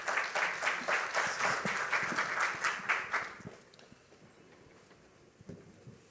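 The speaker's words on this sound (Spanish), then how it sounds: "Démosle entonces un caluroso aplauso de bienvenida a nuestro conferencista." Welcoming applause for a conference speaker: a room of steady clapping that carries on for about three seconds, then thins out and fades, leaving faint scattered noise.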